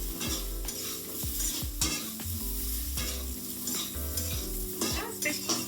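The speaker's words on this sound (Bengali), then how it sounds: "বেগুন গুলো আমি অল্প করে ভাজবো" Eggplant pieces fry in oil, stirred steadily, for a fish curry with garlic and coriander; continuous sizzling with repeated scraping strokes of a spatula against the pan, close and moderately loud, no talking.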